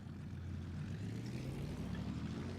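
A Ta 152 H-1 propeller fighter in the War Thunder video game taking off, its piston engine droning steadily and rising slowly in pitch as it gathers speed, loud and continuous with no talk.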